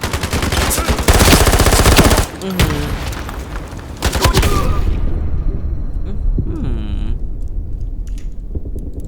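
AK-12 gunfire in the online shooter Ironsight, rapid automatic bursts and scattered shots with booms, someone talking over the game sounds.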